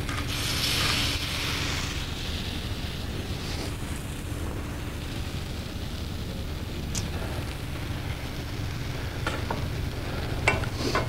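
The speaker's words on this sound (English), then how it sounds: "My compote has come to a nice simmer." Fruit compote simmering in a pot for French toast, a steady bubbling hiss throughout with a few faint clicks near the end and no voices.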